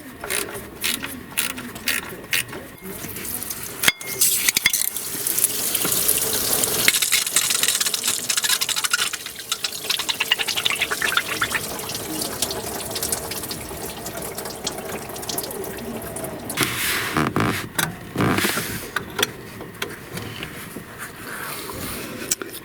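Engine coolant pouring from the thermostat housing of a GM Yukon/Tahoe into a bucket below, a steady splashing stream with occasional metallic clinks and ratcheting, close and moderately loud, with no talking.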